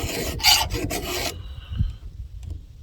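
A steel file rasps across a knife blade edge to strip off the burr, a short burst of several quick, loud strokes followed by a faint scrape and quiet.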